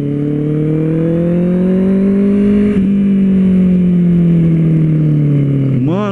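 A Honda CB650R motorcycle with an aftermarket exhaust revs up close, giving a loud, steady, rising drone that briefly dips and ends with a quick blip of the throttle.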